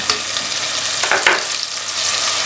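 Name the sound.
frying onions with ginger garlic paste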